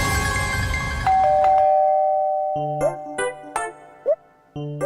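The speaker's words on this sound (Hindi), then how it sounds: "दरवाजे में डोरबेल बज रही है" A house doorbell rings out with repeated bright ding-dong chimes, the tones stepping down and then several separate short rings following in a loud, close sequence.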